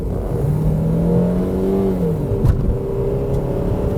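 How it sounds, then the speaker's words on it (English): A 2003 Nissan Sentra SE-R accelerating hard on a test drive, its engine note climbing steadily through the revs from inside the car, loud and continuous with a brief thump midway. "back from the epic test drive in the 2003 Nissan Sentra SE-R"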